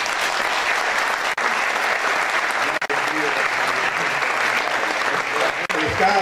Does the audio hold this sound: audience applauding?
yes